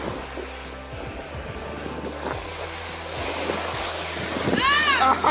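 Sea waves breaking on the Anglesey coast, wading through the water with wind buffeting the microphone; steady rolling surf builds louder toward the end, with people talking over it.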